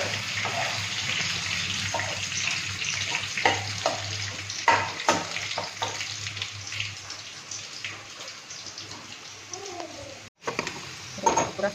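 Onions frying in a pan at home, a steady close sizzle with scattered stirring clatter and small pops throughout, broken by a brief gap near the end.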